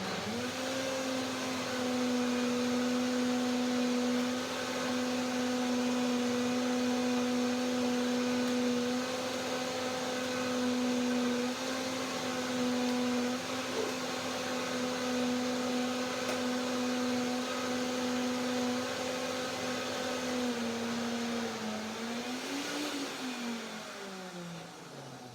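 A blender whirs steadily and loudly through a thick chocolate persimmon pudding, holding one even pitch for a long stretch before the motor wavers, dips and slows near the end.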